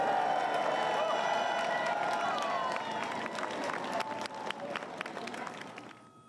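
Crowds lining a closed London street along the route of the Queen's state hearse make a broad, continuous wash of cheering and shouting, joined later by scattered clapping, before the noise fades out at the end.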